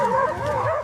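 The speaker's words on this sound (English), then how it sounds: "African wild dogs are not as strong as brown hyenas, but they can form huge packs." African wild dogs calling close by in a short burst of wavering, whiny yelps and whimpering twitters, a pack-like chorus of overlapping high notes.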